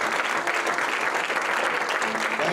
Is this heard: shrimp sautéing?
no